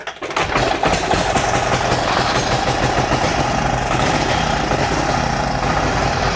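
A 1915 Indian Model D1 racer motorcycle engine fires up after a short quiet start and runs steadily and loudly, a dense, continuous mechanical drone with rapid firing pulses and no talk over it.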